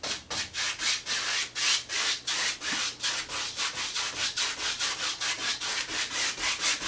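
A paintbrush makes crisscross blending strokes on canvas for a Bob Ross style winter landscape: a steady, rhythmic scrubbing swish repeating about three times a second, close and fairly loud, with no voices.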